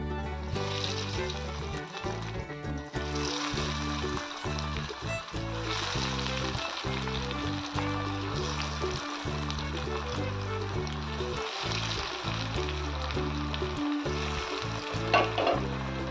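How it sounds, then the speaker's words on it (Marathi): Potato French fries deep-frying in hot oil make a loud, continuous bubbling sizzle throughout, joined by occasional stirring clatter and scraping. "याचप्रमाणे आपण सर्व बटाट्याची फ्रेंच फ्राईज तळून घेऊया"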